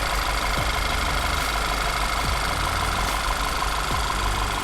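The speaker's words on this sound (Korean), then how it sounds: "엔진 소리도 일정합니다" A Volkswagen New CC 2.0 TSI engine idles loudly and steadily, its low rumble broken by a few soft periodic knocks, with no talking.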